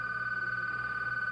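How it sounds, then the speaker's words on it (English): A telephone rings with a steady electronic tone that holds at an even loudness for the whole stretch, with no talking over it. "I think that's the phone."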